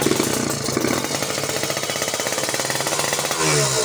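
A standard Kawasaki Ninja with a PWK 34 Air Strike carburetor on the stock manifold runs loud and close, a rapid, harsh rattling two-stroke beat that swells briefly near the end.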